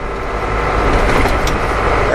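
Continuous loud driving noise inside a truck cab, a dense engine and road rumble with a faint passing squeak, while someone talks over it.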